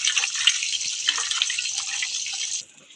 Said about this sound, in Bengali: ওই শুটকি চিংড়িটা আমি ওই হলুদ জলে, গরম জলে ভিজিয়েছিলাম, পরিষ্কার করে ধুয়ে নিচ্ছি